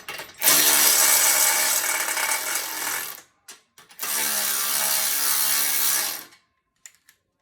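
A power driver or ratchet buzzes in two close bursts of about three seconds each, tightening a part during assembly of a Marcy SM-4903 home gym, with short clicks and pauses between them.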